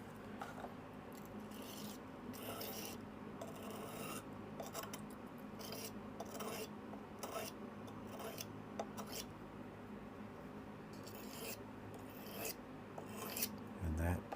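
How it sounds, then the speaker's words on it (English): A blade is sharpened on a Gordon combination sharpening stone with medium and fine grits, giving repeated gritty rasping strokes in a steady back-and-forth rhythm, fairly quiet and close. "looks like it says Gordon, G-O-R-D-O-N, combination sharpening stone."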